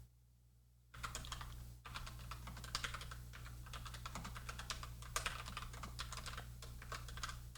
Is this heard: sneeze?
no